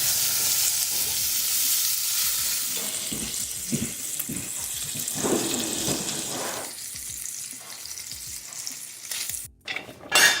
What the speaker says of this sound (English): Meanwhile, we're going to get our bacon going.